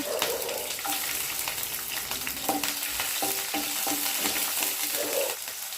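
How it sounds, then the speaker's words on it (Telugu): Green chillies fry in hot oil with a continuous, close sizzle and crackle that holds steady from start to finish. "ఇప్పుడు అదే నూనెలో పచ్చిమిర్చి వేసుకోవాలి"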